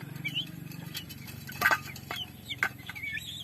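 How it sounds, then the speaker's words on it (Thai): Chickens cluck close by in short, irregular bursts, with a low steady rumble in the background. "ไก่ตอกพี่น้องไก่ตอก"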